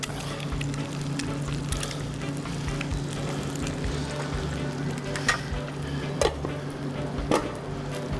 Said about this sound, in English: We're going to gently fry our egg, turn that heat way down now.